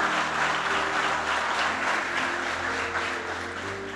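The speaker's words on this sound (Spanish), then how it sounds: "Aplauda al Señor. Fuerte." A church congregation applauds during a sermon, with steady, moderately loud clapping over a low sustained musical drone.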